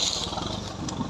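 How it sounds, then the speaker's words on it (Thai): A motorcycle engine with a loud open exhaust pipe gives a brief, close, throaty burst of rumbling. "ต้องเปิดท่อดังๆ ครับจะได้มีแรงครับ"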